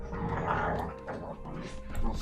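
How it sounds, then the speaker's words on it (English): Two dogs fight at close range indoors, with rough growls, snarls and short yips tumbling over one another in a continuous scuffle, while a voice is also heard. "both the dogs are fighting right now."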